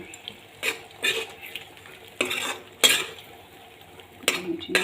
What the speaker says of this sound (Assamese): ধুনীয়াকৈ মিক্স কৰি দিছোঁ।